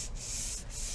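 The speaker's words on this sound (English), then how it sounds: "And then immediately fold and rub" Paper folded and rubbed by hand to spread wet paint for symmetrical butterfly painting, a steady close scratchy rubbing that runs continuously without pause and with no voices.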